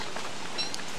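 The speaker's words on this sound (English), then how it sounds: "That rain, man, even with these two hats." Rain falls steadily in Don't Starve, a soft continuous hiss of drops with a faint brief tone partway through and no talking.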